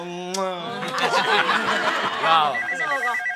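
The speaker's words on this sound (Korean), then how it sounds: "전화 왔어요" A telephone rings with a repeating electronic trill, heard briefly behind a voice that speaks and chuckles over it at close range.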